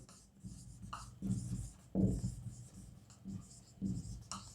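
Pen writing by hand on a board or page during a math lesson on arithmetic progressions, with soft scratchy strokes in short bursts under quiet background hiss and a voice speaking at times.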